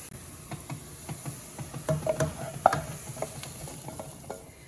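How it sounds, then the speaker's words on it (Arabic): Freshly fried, finely chopped onions in hot oil are poured over cooked lentils for Lebanese mdardara, giving a soft, low sizzle with scattered clinks and scrapes of the pan, fairly quiet and close, with no talking. "وهلا انا طفيت تحت القليه البصل اللي مفرمته كتير صغير، بدي فرغه فوق العدس"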